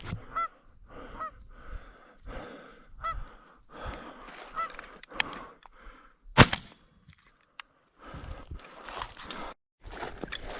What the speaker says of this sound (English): There's one of my geese from earlier